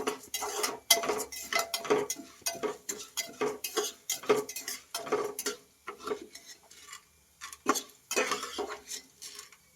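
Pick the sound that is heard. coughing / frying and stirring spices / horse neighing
frying and stirring spices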